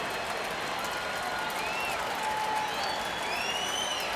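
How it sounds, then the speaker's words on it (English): A baseball crowd at an Astros home game against the Rockies claps and cheers in a steady, distant wash of applause from the stands, with a few faint whistles rising above it. "Now the crowd started to get into it."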